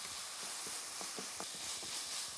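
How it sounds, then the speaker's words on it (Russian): Lean minced meat frying in a pan for a Sichuan noodle soup, a soft continuous sizzle with small crackles and pops, fairly quiet and close, with no talking. "Все, пусть жарится."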